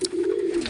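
A pigeon coos nearby in a single low, throaty call that swells and trails off, with no voices over it.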